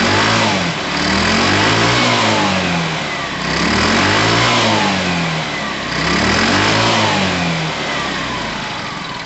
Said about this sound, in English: It's revving okay.